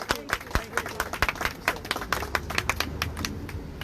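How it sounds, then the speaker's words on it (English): At an outdoor protest rally in Houston, a modest crowd claps after a speech, with distinct, uneven hand claps rather than a dense roar. "Please, another round of applause for Mr. Cornell X."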